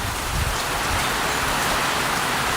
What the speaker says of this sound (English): you can see those big bands of rain just sweeping across that open field